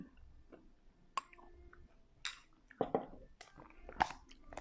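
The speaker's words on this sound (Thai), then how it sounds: "เคี้ยวมันๆเพลินๆ" Crunchy bites and chewing of a homemade buckwheat and coconut snack made for diabetics, a few distinct crisp crunches spaced out over soft mouth noises, close and fairly quiet.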